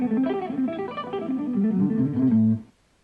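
An electric guitar triad exercise, a quick run of picked notes, one per string, rising and falling briefly before ringing out, with no talk.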